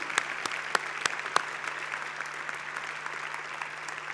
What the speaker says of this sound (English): stand up please, and applaud your parents for their tremendous support